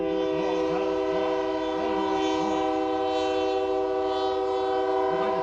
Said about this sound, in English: Who needs a buzzer when you've got these wonderful train effects going on just outside?